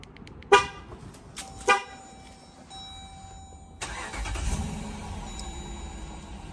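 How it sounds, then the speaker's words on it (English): Dodge Durango, under repair for an intake air temperature sensor fault code P0113, starts after two sharp chime-like tones and a few steady beeps. The starter then cranks and the engine catches into a low, even idle, heard close up. "So now I'm gonna start the car and we'll see what happens."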